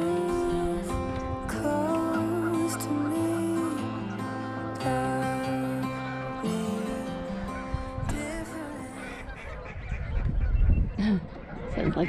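Geese and other waterfowl honk and call in a dense, overlapping chorus on a big pond at Cibola National Wildlife Refuge, loud and close, with a few brief quiet voices underneath.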